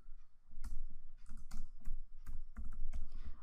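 Keys clatter on a computer keyboard in short irregular bursts of clicks, close and fairly quiet, as a search is typed into a Windows 10 start menu, with no voices over it.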